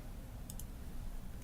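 Two quick computer mouse clicks while working in DesignShop V9 embroidery software, faint and close, set against a low, steady room hum.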